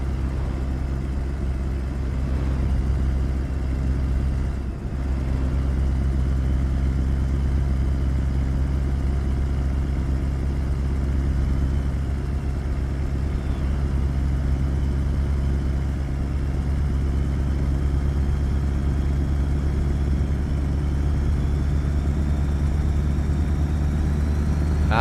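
Truck engine idling in Euro Truck Simulator 2, a steady low rumble that holds evenly and close throughout, with one brief dip partway through and no talk.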